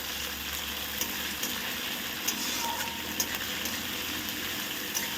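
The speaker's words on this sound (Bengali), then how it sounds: "এবারে গরম তেলের মধ্যে পেঁয়াজ কুচিটা ছেড়ে দিলাম" Chopped onion with crushed garlic sizzling and frying steadily in hot oil for a mutton leg recipe, a dense continuous crackle at close range with no talk.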